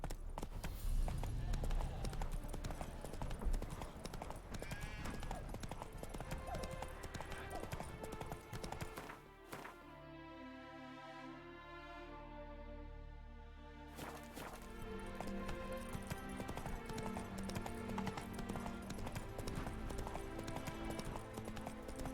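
Horse hooves clip-clop steadily in Witcher 3, the rider's mount moving at pace. The hoof beats run through the whole stretch, mixed with game music and ambience, and thin out briefly in the middle.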